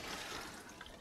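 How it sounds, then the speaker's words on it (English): Water poured from a watering can onto a garden tree fern, a soft, steady splashing wash that stays faint and even throughout, with no talking. "Gives it a good water, you know, a couple, one or two cans per tree fern."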